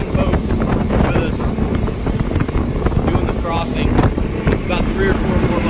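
Motorboat engine drones loud and steady on an open-water crossing from Fort Lauderdale to Bimini, running alongside a group of other boats, with heavy wind buffeting the microphone throughout.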